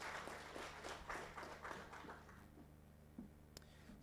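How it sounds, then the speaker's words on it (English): Scattered audience clapping at a university student council election event after a presentation, a modest round of claps that thins out and fades within a few seconds. "A better clap, come on."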